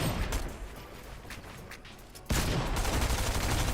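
Bursts of gunfire in a video game firefight, quiet and somewhat distant at first, then a louder, denser burst of rapid shots near the end.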